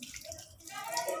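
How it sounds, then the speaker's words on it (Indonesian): Water running from a tap over hands being wetted for handwashing, a steady close splashing flow that builds slightly toward the end. "Basahi kedua tangan dengan air mengalir."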